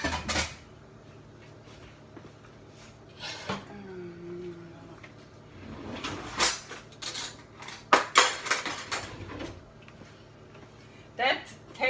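Metal cooking sheet being handled in a home kitchen, a few scattered clanks and scrapes with pauses between, close by, while someone talks.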